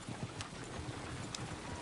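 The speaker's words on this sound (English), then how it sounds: "Is one of you going to get that fella's horse?" Horse hooves clip-clopping in a video game, a quick irregular run of soft hoof knocks at a walking pace, faint and fairly close against a low background.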